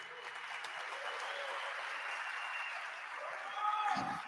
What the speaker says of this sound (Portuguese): Salva de palmas, galera, pro Denner